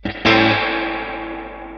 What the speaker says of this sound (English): Still a good couple of seconds of reverb tail